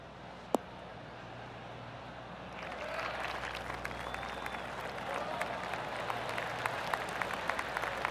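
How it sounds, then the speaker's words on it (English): After a faint knock, a golf gallery at the 18th hole of the Farmers Insurance Open breaks into sustained polite applause, many hands clapping steadily at a distance, with murmuring beneath. "Oh, golf clap."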